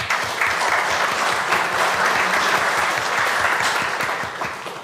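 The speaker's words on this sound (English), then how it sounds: "So give him a round of applause." An audience at a city council meeting applauds a retiring staff member, a dense steady clapping that holds loud for several seconds and then starts to fade.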